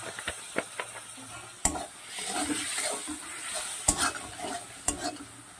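Spices including chili powder sautéing in a pan with a splash of water, a steady sizzle broken by repeated scraping stirs of a spoon against the pan.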